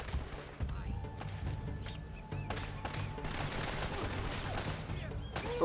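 Rapid bursts of gunfire in the video game Uncharted: Drake's Fortune crackle through a firefight, dense repeated shots with game noise throughout and no talk.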